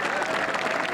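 Applause from a golf crowd at the BMW PGA Championship after a putt drops, a dense and steady wash of clapping with a faint murmur of voices under it.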